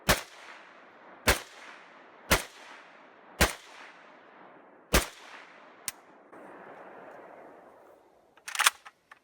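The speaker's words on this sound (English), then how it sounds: "Empty magazine, all of them fired." A Ruger Mini-30 rifle fires about six sharp, loud shots at roughly one-second intervals, each with a decaying echo, followed by a metallic clatter near the end.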